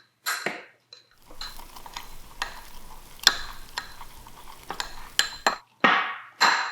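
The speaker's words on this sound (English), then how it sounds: "Let's get this stirred up and mixed up." Overnight oats with chocolate almond milk stirred in a bowl, a run of spoon scrapes and sharp clinks against the dish, close and fairly loud, with brief quiet gaps and no talking.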